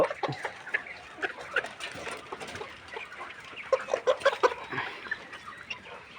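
Layer hens, some of them sick with eye swelling, cluck and chatter in short irregular bursts at moderate distance, with no voices.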